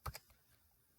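Two quick, close keystrokes on a computer keyboard, faint clicks followed by near silence.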